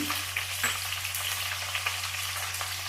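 Green chillies and beans hit hot oil in a pan for Karnataka-style avarekalu uppittu, a steady close sizzle and crackle with a faint low hum underneath.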